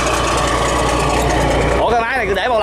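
A boat engine runs steadily during an engine test, with a dense, continuous mechanical drone. People talk over it toward the end.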